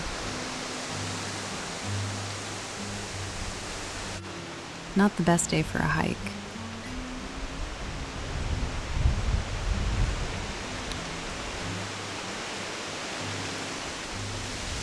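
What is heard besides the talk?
wind blowing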